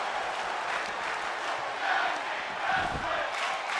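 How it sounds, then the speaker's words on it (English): Spectators at a tag team wrestling match roar and cheer in a steady, dense wash of noise that swells slightly in the middle, with indistinct shouting mixed in. "Crowd getting into this tag team match."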